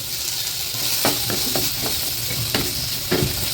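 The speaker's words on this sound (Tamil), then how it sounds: "தேங்காவையும் அந்த சூட்லேயே அப்படியே போட்டு வதக்கி விடலாம்." Grated coconut sautés in a hot pan with tomato, mustard seeds and urad dal for a spicy chutney, giving a steady close sizzle broken by several sharp scrapes and stirring knocks.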